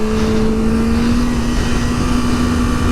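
The engine of a 2024 Kawasaki Ninja ZX-6R 600 motorcycle howls loud and close on a race track, holding a high, steady tone that climbs slightly in pitch with no voices over it.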